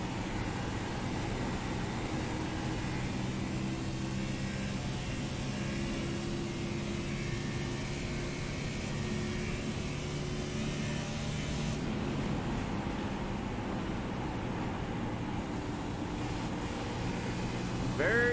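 Onboard iRacing race car at Michigan holds a steady, droning engine note through a lap, constant and moderately loud, with commentators talking over it throughout.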